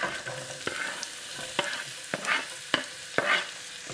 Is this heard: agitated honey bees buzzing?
no